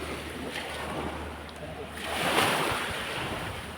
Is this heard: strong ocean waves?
yes